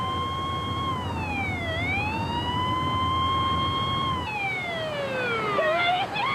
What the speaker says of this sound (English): The ambulance had shut its doors and started to pull away real slow.